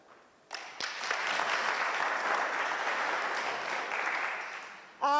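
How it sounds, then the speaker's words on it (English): Conference audience breaks into hearty applause at a youth employment event, a full, even burst of clapping that starts suddenly and runs for several seconds before stopping, followed by a brief voice. "Let us give him a hearty clap in absentia."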